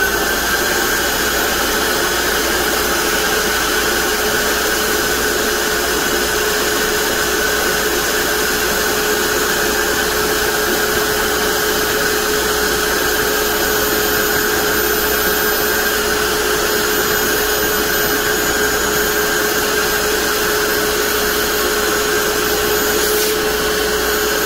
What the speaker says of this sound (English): I'm just going to put my vacuum cleaner right at that access port.